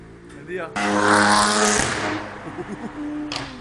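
A Hyundai i30 driving on roads near the Nürburgring rushes past with a loud surge of engine and tyre noise, while someone talks over it nearby.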